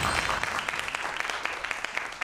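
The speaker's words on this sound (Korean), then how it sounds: "큰 박수로 맞이해 주세요" Live audience applause at a Korean TV lecture event greeting an elementary school teacher onstage, a steady dense clapping from a crowd throughout, fairly close and even in loudness.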